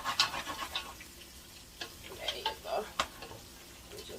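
Creole chicken in tomato sauce with a plum tomato cooking in a pan, a faint intermittent sizzle and bubbling with scattered small pops and clicks, no talk.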